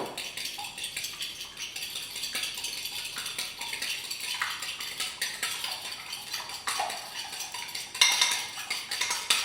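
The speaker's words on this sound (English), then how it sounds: "So just using a fork, I'm going to give that a really good whisk so it's all incorporated together." A fork whisking omelette batter of eggs and salt in a bowl, fast continuous clinking and scraping against the dish, close and steady with a louder flurry near the end.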